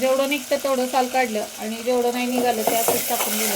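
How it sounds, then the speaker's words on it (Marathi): Spices and garlic crackling and sizzling in hot oil during tempering for dal, with stirring clatter, while a person talks over the cooking noise. "फोडणीचा आवाज येत असेल"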